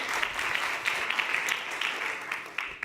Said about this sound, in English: give yourselves a big round of applause and show support for everyone who came up here and pitched